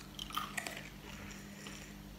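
Crunchy biting and chewing of strawberries and cream M&Ms candy, a few sharp crunches close up at first, then quieter soft chewing.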